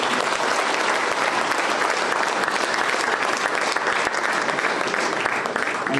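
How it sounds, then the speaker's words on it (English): Sustained applause from a large audience at a teachers' excellence awards ceremony, dense and even clapping that holds steady the whole time with no talking over it. "I want you to give yourself a round of applause"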